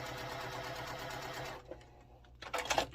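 A sewing machine stitches quilt block pieces for a sailboat block, running steadily and loud up close, then pausing briefly before a short final burst.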